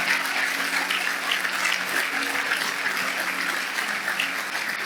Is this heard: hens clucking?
no